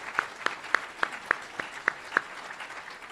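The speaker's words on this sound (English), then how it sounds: "can we have a round of applause for the service of all three judges?" Scattered, fairly faint handclaps from a small audience at a law school moot court competition final, about eight sharp claps in a steady, slow rhythm with no voices.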